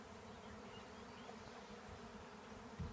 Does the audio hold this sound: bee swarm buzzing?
yes